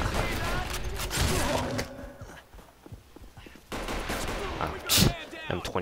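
M21 sniper rifle gunfire in the online shooter Arctic Combat, several sharp shots with clattering mechanisms and footsteps, loud bursts separated by a quieter lull, under a player's voice.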